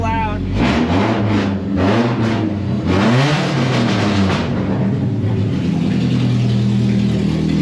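A 1979 Toyota Corolla with a swapped-in engine runs with a steady, loud mid-pitched rumble and some revving early on, with people talking over the first few seconds before the motor carries on alone.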